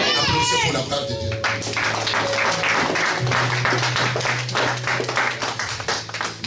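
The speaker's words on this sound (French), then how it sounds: "Applaudissez pour la part de Dieu." Congregation applause at a Sunday miracle-healing crusade service in a church, steady dense clapping that sustains throughout with voices and a sustained tone rising over it.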